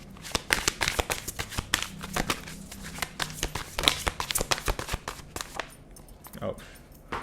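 Oracle cards from a Dragon Wisdom deck being shuffled by hand, a rapid run of close, crisp riffling slaps and flutters in irregular bursts, with a brief pause and a soft voice near the end.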